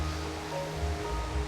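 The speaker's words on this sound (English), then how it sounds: "The sound of the water's lovely." Water flows steadily in a countryside garden in Carmarthenshire, a continuous broad rushing wash that stays loud and even, with no talk over it.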